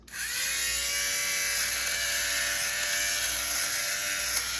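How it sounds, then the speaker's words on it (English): A small electric fabric shaver on its low setting hums and buzzes steadily at close range, a constant whirring drone that runs without pause. "I'm gonna put it on low and I'm sorry for the noise"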